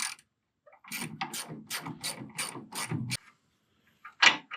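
A ratchet wrench clicks in a quick rhythmic run of ratcheting strokes while a 16mm socket loosens a sway bar bolt on a 2012 Ram truck, then after a pause comes one short, louder burst of clicks; the sound is close and clear.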